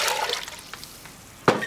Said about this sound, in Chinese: 加水